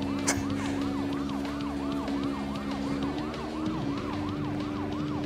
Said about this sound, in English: They don't react to your sirens